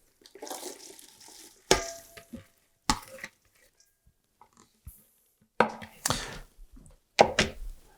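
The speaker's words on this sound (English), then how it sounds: "First, our Brussels sprouts right in." Brussels sprouts tumble into a salad bowl in several separate bursts, each a short rattling clatter of small, firm pieces, close by and alone between quiet gaps.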